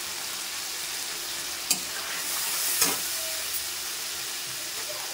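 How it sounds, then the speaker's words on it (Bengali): Salt and turmeric spices frying in hot oil give a steady close sizzle and hiss, with a few sharp clinks of a stirring spoon against the pan; no voices. "তো ভালো করে মশলাটা কষিয়ে নেব আমি যতক্ষণ না তেল ছাড়ছে"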